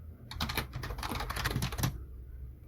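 Rapid typing on a computer keyboard while entering Java code, a dense run of close, crisp key clicks for about two seconds, then quiet.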